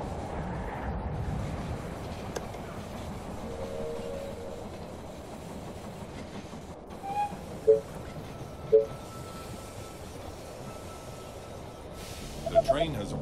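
Train rolling into a station in the zombie strategy game They Are Billions, a steady low rumble with clickety-clack under it and a few brief chimes near the end.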